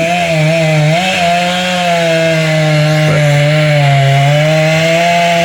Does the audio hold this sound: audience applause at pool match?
no